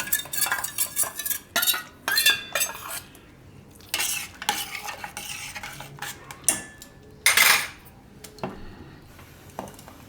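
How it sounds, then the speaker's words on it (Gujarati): A spoon stirs cold cocoa milk thickened with cornflour in a pot, with repeated scraping strokes against the metal in an uneven rhythm and short pauses between, close and fairly loud, with no talking. "પાછો એકવાર ફેરવી લેવાનું એને."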